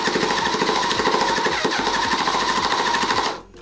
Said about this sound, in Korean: 모터가 도는데도 도대체 왜 비트는 안 움직이는 거죠?